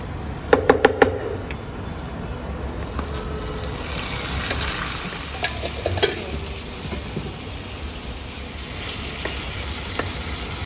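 Marinated meat for an Andhra style chicken curry sizzles steadily in a hot pan, with a few sharp clinks and stirring scrapes near the start and through the middle, and no one speaking.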